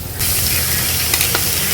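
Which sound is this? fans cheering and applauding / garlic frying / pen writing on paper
garlic frying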